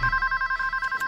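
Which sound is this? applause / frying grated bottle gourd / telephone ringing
telephone ringing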